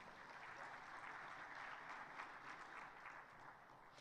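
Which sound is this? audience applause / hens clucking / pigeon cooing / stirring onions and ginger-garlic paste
audience applause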